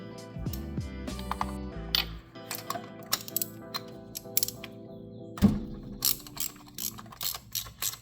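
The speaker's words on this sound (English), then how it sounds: "It's a spark plug socket extension, 6-inch extension, 3/8 drive." Ratchet turning a 5/8 spark plug socket on a 6-inch 3/8-drive extension in a 2012-2016 Honda CR-V engine, rapid metallic clicking in short bursts with clinks of tools, close and clear.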